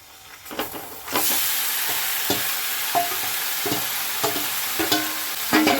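Duck meat tipped onto browned fried onions in oil, a loud sizzle surging up after a second and hissing steadily, with spoon scrapes and stirring knocks recurring throughout.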